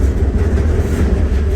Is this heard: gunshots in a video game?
no